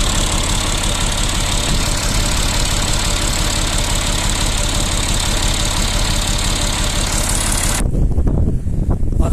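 A Massey Ferguson 240 tractor engine idles at about -1 degree with a cold exhaust, a steady loud knocking chug that cuts off abruptly near the end, leaving only faint low rumbling.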